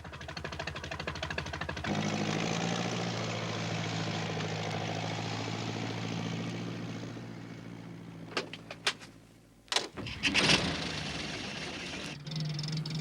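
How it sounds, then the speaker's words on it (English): A steady low tractor engine rumble drones close by for several seconds, then cuts off, followed by a few clunks and rattles. "It was Alf Thompson on his tractor."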